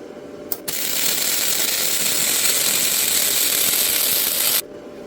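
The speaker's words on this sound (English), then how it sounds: "what we'll do is we'll run a weld, and we'll see" A Unimig Viper multi135 flux-core welder running a bead, a loud, steady crackling hiss that starts abruptly after a brief click, holds for about four seconds, then cuts off sharply.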